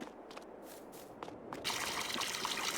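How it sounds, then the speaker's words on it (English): Water trickling and pouring from a well in Farming Simulator 22, a soft broadband splash that starts faintly with a few drips and swells to a steady, closer pour in the second half. "it actually pours water as you get close to it. Including sound effects."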